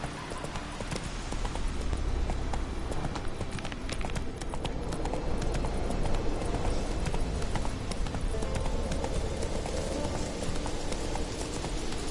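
Roach, the horse in The Witcher 3, gallops steadily, with rhythmic hoofbeats clattering close and loud for the whole stretch over a faint hiss of rain.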